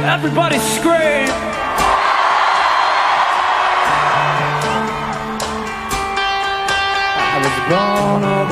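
Concert crowd at Donington Park screaming and cheering during a rock show, a loud sustained roar with whoops and shouted voices over stage sound.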